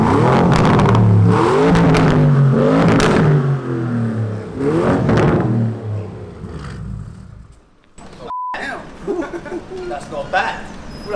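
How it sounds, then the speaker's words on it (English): A loud, close car fitted with an aftermarket sports exhaust revs up repeatedly, the engine note rising and falling in sharp bursts before settling into a rough idle. "I actually have put a sports exhaust on"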